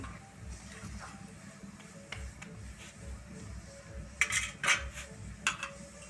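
A spoon stirs jute leaves boiling in a cooking pot for a Bengali vegetable dish, giving a few soft, scattered clinks against the metal over a low, steady background murmur.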